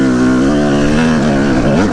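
A dirt bike engine running on new jetting holds a steady, loud, buzzy drone with slight pitch wavering as the throttle shifts, close and continuous with no speech.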